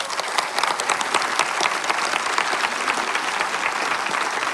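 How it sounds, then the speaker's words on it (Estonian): An audience claps after a lecture on speculative fiction, a dense, steady round of applause that fills the whole stretch without talk. "praegu on õige aeg tänada Jaaku veel kord aplausiga"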